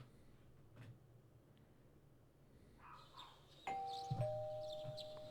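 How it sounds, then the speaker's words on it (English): A doorbell chimes in a video game, a clear ding-dong tone ringing out after a quiet stretch of faint ambient sounds, with soft knocks and thuds around it. "You hear the doorbell ringing."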